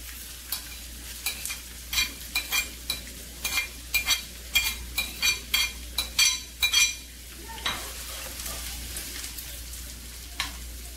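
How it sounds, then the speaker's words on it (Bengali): Chopped onion and garlic frying in oil in a pan give a soft background sizzle, broken by repeated sharp scrapes and clinks of a spatula stirring in quick bursts. "পেঁয়াজ রসুন গোল্ডেন কালার করে ভেজে নেব।"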